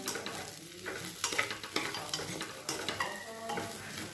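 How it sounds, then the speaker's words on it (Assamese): Khichdi of rice and lentils with a few cashew nuts frying in a pan, a steady sizzle broken by brisk stirring and scraping strokes of a spoon, close and moderately loud. "এতিয়া খিচিৰিখিনি ভালদৰে ভাজি ল'লোঁ।"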